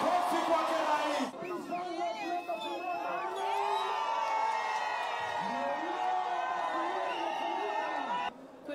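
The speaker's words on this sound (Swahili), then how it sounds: "Makofi kwake rais." A large crowd at a public gathering cheers and shouts in a loud, continuous roar of voices, close and sustained with no break.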